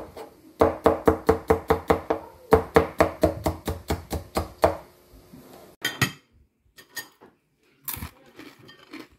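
A knife slices a cucumber on a cutting board while chicken rice is being prepared. Rapid, evenly spaced chops come in two quick bursts, followed by a few slower, scattered cuts. The chopping is close and crisp.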